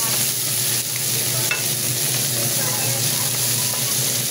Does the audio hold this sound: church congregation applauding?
no